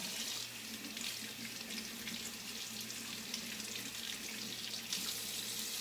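Tap water running steadily over a Nama juicer part being rinsed in a sink, a continuous close hiss and splash with no talk.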